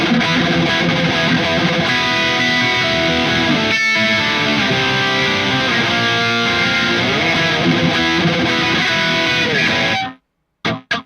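A loud, overdriven electric guitar through a Mesa Mark IV tube amp plays sustained lead phrases with bends and quick runs, briefly pausing once, then stopping suddenly near the end.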